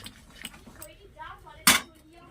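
The lid is lifted off a pot of yam and prawn curry with one sharp metallic clank near the end, after faint clatter and a voice talking.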